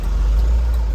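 Mitsubishi Canter truck from 2021, hauling fish, with its engine droning steadily and close throughout a brief moment of driving, a constant low rumble and no voices.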